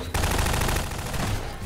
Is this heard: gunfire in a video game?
yes